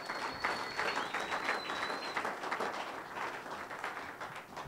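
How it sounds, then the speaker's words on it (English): A church congregation claps hands steadily for several seconds, a dense, even patter with a faint whistle or shout near the start. "Clap hands for Jesus."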